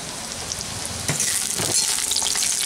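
Lentil dumplings (bori) frying with garlic in a pan, a steady hiss of sizzling oil with bursts of louder crackle as the pieces are stirred, close up and with no talking.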